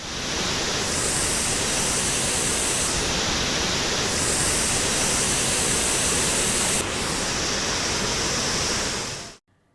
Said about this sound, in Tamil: இதனால் ஒகேனக்கல் அருவிகளில் தண்ணீர் ஆர்ப்பரித்து கொட்டுகிறது